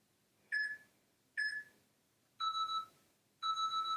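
Four electronic beeps from a workout interval timer in two pairs: two short chirps, then two longer sustained tones, clear and fairly quiet against a faint background hum.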